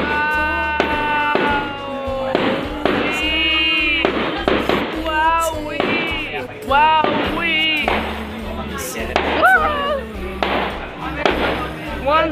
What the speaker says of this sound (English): One firework a single time.